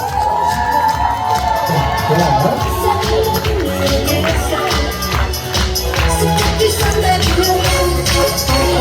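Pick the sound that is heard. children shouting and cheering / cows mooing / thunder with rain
children shouting and cheering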